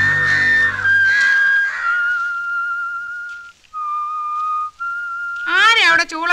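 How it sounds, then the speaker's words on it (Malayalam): A person whistles a sustained, wavering tune in several long held notes with short breaks, clear and fairly close, following a stretch of voiced sound at the start and ending in a louder warbling flourish. "ആരാ അവിടെ ചൂളം അടിക്കുന്നേ?"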